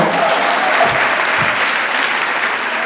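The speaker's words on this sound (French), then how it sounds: "On donne les acclamations à Antoine" A church congregation applauds and acclaims a man named Antoine, a sustained, even wash of many hands clapping at once, full and close, with faint voices mixed in.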